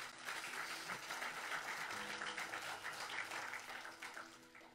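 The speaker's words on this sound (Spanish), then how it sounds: "¿Cuánto le da un aplauso a Dios?" Church congregation applauding during a sermon, a steady wash of many hands clapping at moderate distance for several seconds, fading slightly toward the end, with little talk.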